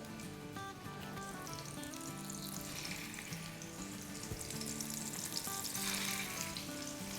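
Mini seekh kababs fry in oil in a pan over a low flame, a continuous soft hiss and crackle that holds evenly throughout, quiet and close with no speech.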